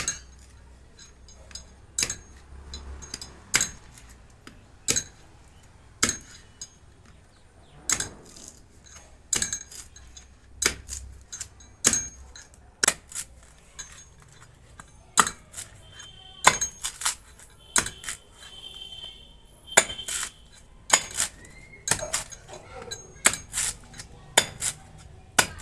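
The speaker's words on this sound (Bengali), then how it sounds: "গাছ থেকে পড়েছে আরেকটা নারকেল, তো এটা এখন কাটছি" A coconut that fell from the tree is struck open, giving a long series of sharp, hard knocks roughly a second or two apart, each ringing briefly, with faint clinks between them.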